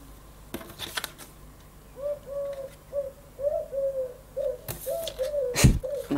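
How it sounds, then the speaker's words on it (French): Turtle doves coo in a steady series of soft, repeated calls nearby, interrupted by a few sharp clicks and knocks close to the listener. "non, c'est les tourterelles."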